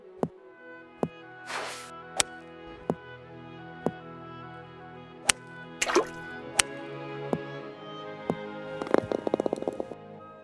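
Water drips, plops and small splashes at a LEGO golf lake. Sharp, separate drops fall one after another against a quiet background, with a few busier bursts of splashing, and no one speaks.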